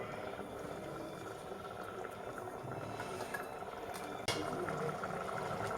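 A pot of spinach rice mixture in hot water simmers at a steady boil with a soft, even bubbling rumble and a single sharp clink of a utensil near the end.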